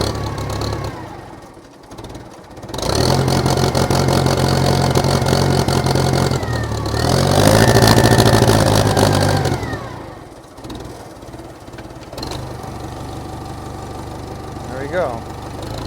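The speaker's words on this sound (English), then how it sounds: "I have to rev up the engine for the alternator to work." A Case 580CK backhoe's diesel engine idles, then revs up loudly for several seconds before settling back down; a voice talks briefly over the rumble.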